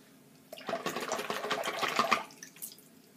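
A safety razor rinsed under running water, a close splashing gush lasting about two seconds with small trickles and drips as it tails off.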